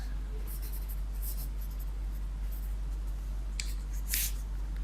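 A marker or chalk writes on a board in short scratchy strokes and squeaks, fairly faint over a steady low electrical hum, with a few sharper swipes near the end.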